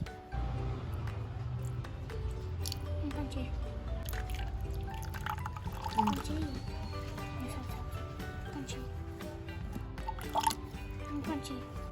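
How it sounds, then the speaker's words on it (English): Vinegar pours into a container for a homemade lava lamp experiment, with trickling, dripping liquid and small splashes running throughout while people talk over it. "in the other one, we pour some vinegar"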